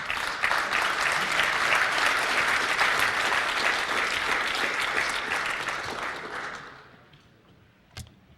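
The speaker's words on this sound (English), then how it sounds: "Applause." An audience at a ShmooCon security conference talk applauds with sustained, full clapping for about six seconds before it tapers off, followed by a single sharp knock near the end.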